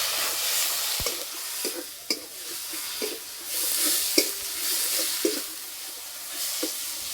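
Ground turmeric, chilli, cumin and coriander stir-fried in a pan with a little water, a steady hissing sizzle broken by regular spoon knocks and scrapes about once a second.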